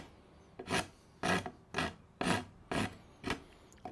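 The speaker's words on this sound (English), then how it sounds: "the rasp will leave marks that you then have to file or sand out" A hand rasp rounding over the corner of a wooden workbench leg in six steady strokes, each a short, close, coarse scraping rasp with brief pauses between.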